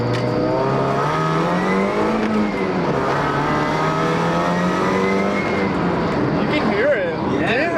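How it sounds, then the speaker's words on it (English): A supercharged 1.6L Mazda Miata on its first pull, the engine droning and rising steadily in pitch under acceleration with a whine on top, heard close from inside the car while people talk over it. "Alright, first Miata supercharged pull."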